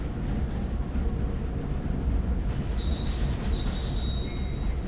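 A train in the mobile video game Indian Bike Driving rolls along with a steady rumble and a high wheel squeal that rises in the second half, with no talk.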